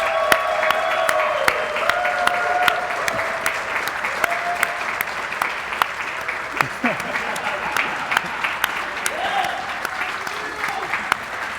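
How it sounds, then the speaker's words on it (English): A big audience at Summer Games Done Quick 2018 applauds the behind-the-scenes crew, steady dense clapping filling the whole stretch with a few brief cheers rising over it. "Give them a big round of applause, guys, because they do all the real work"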